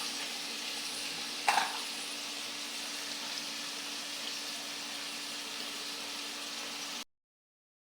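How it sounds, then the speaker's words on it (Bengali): Chopped onions and green chillies frying in a pan, a low steady sizzle with a single brief clink of stirring early on, then the frying runs on alone before cutting out, with no talk. "ভালো করে নাড়াচাড়া করে কষিয়ে লাল লাল করবো পেঁয়াজটা"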